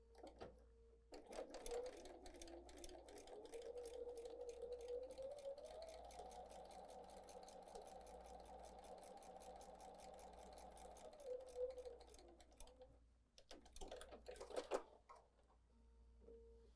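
A sewing machine stitches a quarter-inch seam on a maple leaf quilt block, running in one long steady whir before a shorter second burst, fairly quiet and up close.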